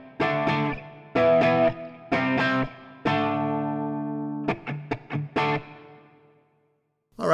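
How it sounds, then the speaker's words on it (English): An electric guitar played through a Fractal FM9 amp modeler, using the amp's own drive with the external drive pedal switched off: chopped driven chords in a rhythmic pattern, then a ringing chord and quick staccato stabs. "the drive coming from the amp because the drive pedal is physically turned off"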